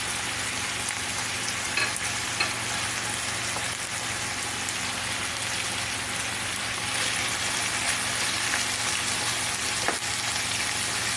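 Chopped onions and garlic fry together in a pan for chicken with oyster sauce, a dense, steady sizzle and crackle close up, continuous throughout with no speech.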